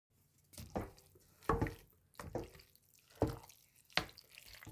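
Thick beanless chili stirred in a pot, a series of soft wet scrapes and plops in an irregular rhythm, quiet and close.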